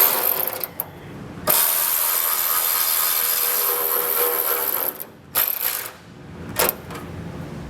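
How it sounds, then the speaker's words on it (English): A power driver runs a self-tapping screw into a metal chassis bracket for a trailer wiring ground, giving a loud, close grinding whir in a long burst followed by several short pulses. "I'm going to take a self-tapping screw and get that secured."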